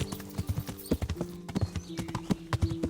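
Close, rhythmic clip-clop of a horse's hooves in Kingdom Come: Deliverance, the medieval role-playing game, repeating at a steady trotting pace with a sustained tonal hum underneath and almost no talking.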